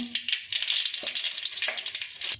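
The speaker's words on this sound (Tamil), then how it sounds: "எண்ணெய் சேர்த்துக்கலாங்க, கடுகு சேர்த்துக்கலாங்க" Mustard seeds sizzle and crackle in hot oil as the tempering for a spicy okra kara kulambu begins, a close, continuous hiss dotted with sharp pops, with no one speaking.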